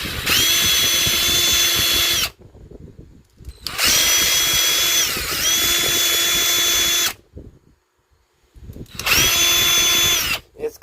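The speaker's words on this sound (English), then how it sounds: "I'm going to try to drill this out a little bit bigger." A power drill boring out a hole in a brass radio knob, whining loudly in three sustained bursts with pauses between, the motor pitch dipping briefly under load, close up with no talk.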